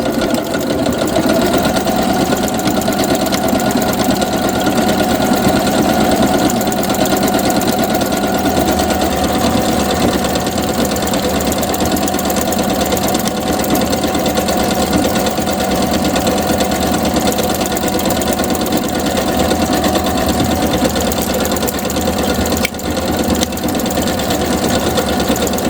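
Close, continuous whir of a new sewing machine stitching a label, running steadily and loud for the whole stretch with a brief stop near the end.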